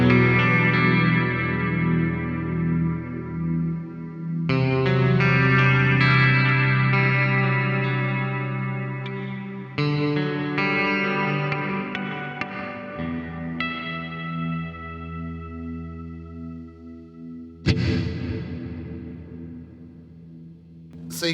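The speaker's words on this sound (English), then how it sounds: "I'm just going to wind the delay out a little bit, just so you can hear how much it actually delays" Electric guitar played through an Xvive mini pedal with a huge hall reverb and long delay, sustained chords and notes washing into repeating echoes that swell and trail off, with a sharp new strum near the end, no talking.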